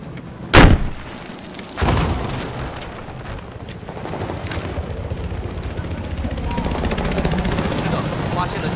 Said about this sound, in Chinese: 观察到了敌军直升飞机